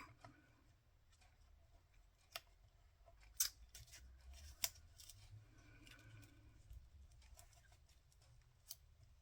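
Scissors cutting card for a handmade congratulations card, a few faint, sparse snips and crisp clicks over a quiet room background.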